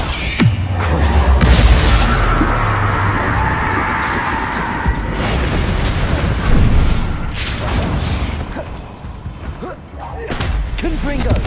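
Confringo and Bombarda spell explosions in the game Hogwarts Legacy land as loud, heavy booms and crashes with rumbling debris, repeated over several seconds, with a voice speaking through the blasts.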